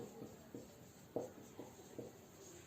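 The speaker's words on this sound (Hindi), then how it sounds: "आप देख सकते हो मैं यहां पे लिखता हूं" Handwriting with soft scratchy pen strokes comes in short separate bursts roughly every half second, quiet and close over a low background hiss, with no speech.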